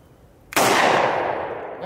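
A single loud, sharp gunshot from a Standard Manufacturing S333 double-barrel .22 Magnum revolver firing both barrels outdoors, a sudden crack followed by a long, broad ringing decay.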